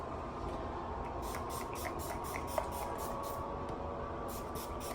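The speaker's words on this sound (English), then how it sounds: "I like to drench my face with setting spray" Urban Decay All Nighter setting spray mists onto a face in a rapid run of about a dozen short, hissy pumps, close and fairly faint over a steady background hiss.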